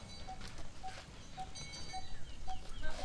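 Goats and sheep on a goat farm in Lian, Batangas, with a steady bed of animal noise and bleats. Short, evenly spaced high tones that might be bells or calls repeat about every half second throughout.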